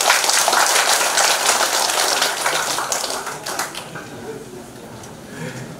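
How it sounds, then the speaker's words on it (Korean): An audience at a lecture hall talk applauds to welcome the lecturer. The dense clapping is loud at first and then thins and fades, and a voice speaks over it. "그럼 이 시간에 좋은 강의를 해주실 우리 김교환 명예회장님을 큰 박수로 모시겠습니다."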